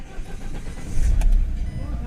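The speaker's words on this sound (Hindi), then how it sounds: "गाड़ी हमारी स्टार्ट हो गई" A Mahindra XUV500 with an engine noise problem cranks and catches, its engine settling into a steady low idle, close by and fairly loud.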